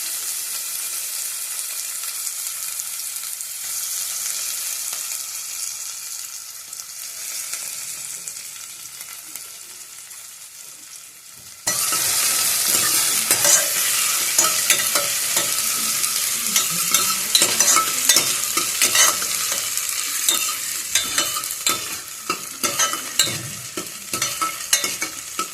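Finely chopped garlic and onion fry in a pan, starting as a faint hiss and then bursting into a loud, crackling sizzle broken by repeated scraping stirs.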